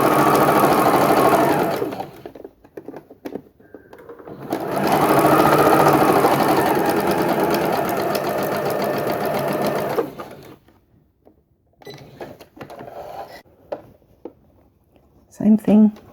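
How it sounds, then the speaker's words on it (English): A sewing machine runs in two steady bursts of rapid, close mechanical whirring while stitching along the edge of a quilt, with pauses and brief handling noises between them. "I'm just stitching it quite close to the edge."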